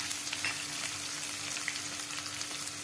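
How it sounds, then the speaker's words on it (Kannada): Cumin and mustard seeds splutter in hot oil for a bread vagarni tempering, giving a steady close sizzle with scattered small pops and crackles and no talking. "2 ಸಣ್ಣ ಸ್ಪೂನಿನಷ್ಟು ಜೀರಿಗೆ, ಸಾಸ್ವಿ ಹಾಕಾಕತ್ತೇನ್ರಿ. ಇವ್ ಚಟಪಟ ಸಿಡಾತವಲ್ರಿ"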